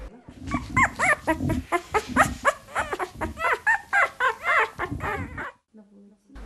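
Three male puppies whimper and whine in quick, rising cries, close and continuous, then stop abruptly near the end.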